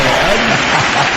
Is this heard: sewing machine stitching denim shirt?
no